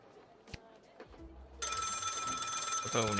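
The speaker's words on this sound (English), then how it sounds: "The phone is ringing." A telephone rings in the video game Lil Guardsman, a loud, steady electronic ringing that cuts in sharply after a few quiet thumps and holds to the end, with a low tone rising beneath it.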